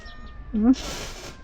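A single short cat meow sounds close by, with a person's voice talking around it.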